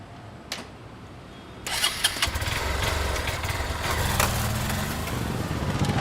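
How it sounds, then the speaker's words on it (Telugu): A motorcycle engine cranks and catches after a short pause, then settles into a loud, close, steady running rumble that holds on as the bike revs and pulls away. "సరే బైక్ తీ, పదా."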